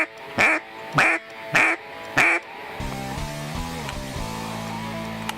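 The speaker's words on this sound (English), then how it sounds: "Mallard drake. King of ducks right here" A mallard drake gives four loud, evenly spaced quacks close by while duck hunting on a river, then a low, steady rumbling drone carries on alone.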